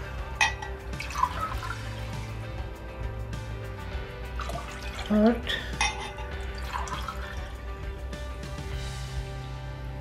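Water is poured from a drinking glass into a pot, measured out to about a litre for Knorr packet lentil soup, giving splashing pours and clinks of glass and cookware in a home kitchen while someone counts aloud.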